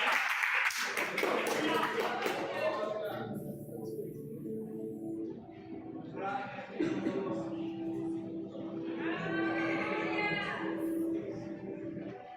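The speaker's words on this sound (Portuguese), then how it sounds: "Louve ao Senhor com as palmas." A church congregation at a youth service claps hands in praise, a dense burst of applause at the start that fades quickly as a voice takes over and speaks at length.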